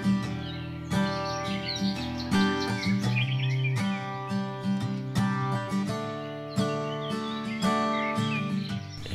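Many kinds of birds sing and chirp together in an organic permaculture farm garden, a steady layered chorus of bright whistles and trills with repeated calls, fairly close and with no talking.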